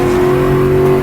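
Stock car engine in Assetto Corsa dropping to first gear for a hairpin, a loud, steady close-up engine drone with strong tonal harmonics that holds through the whole moment.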